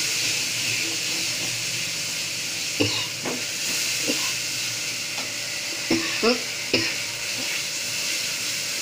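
Spices with turmeric fry in a pan for pomfret fish curry, a soft continuous sizzle broken by scattered scraping knocks as they are stirred.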